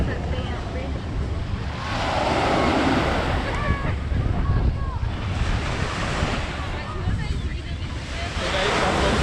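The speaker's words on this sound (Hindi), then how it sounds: "हम फाइनली अभी बीच पे खड़े हैं और ये देखो ब्लू ब्लू पानी" Surf breaks and washes ashore at Dubai Marina beach, rolling waves swelling and receding in a steady roar mixed with gusty wind on the microphone, while people talk nearby over the water.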